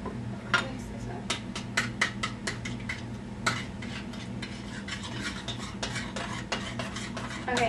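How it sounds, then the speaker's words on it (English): A utensil stirring lemon bar batter with baking powder and lemon juice in a mixing bowl, giving soft scraping, clinking strokes at a steady pace under a low kitchen hum. "Mix this up."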